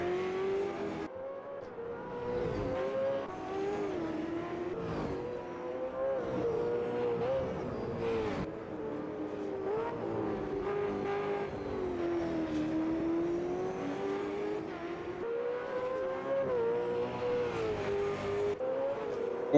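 Racing cars at Bathurst, including a Ford Mustang, roar continuously with a steady rising and falling engine note close by, the revs shifting with gear changes while a commentator talks over them.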